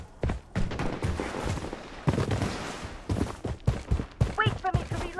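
Gunfire in the shooter game Blood Strike, bursts of sharp repeated shots spread through the clip, loud and close, with voices talking over parts of it.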